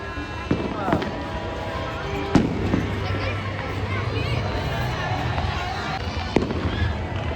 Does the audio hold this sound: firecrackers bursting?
yes